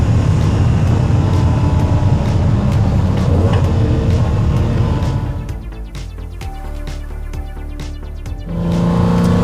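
A 1980 BMW M1 driving hard, its engine revving loudly and continuously, easing briefly in the middle before climbing again near the end, close and without talk.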